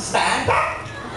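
A man imitating a dog, barking twice in quick succession, close and loud, with a short spoken word among the barks.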